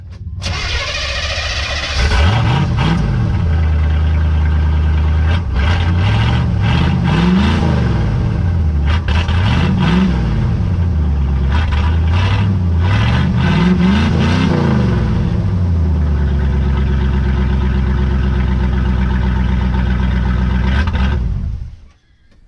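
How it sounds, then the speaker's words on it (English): A 1980 Corvette engine without mufflers cranks and fires up close by, then idles loudly with a deep raw exhaust and is revved repeatedly in rising and falling swells before shutting off. "what do you say first start without mufflers? Listen to this muffler. There's stuff rattling around in it. Let's see what it does. Let's fire it up."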